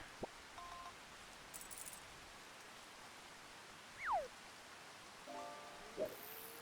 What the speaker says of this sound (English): Oh, here comes the rains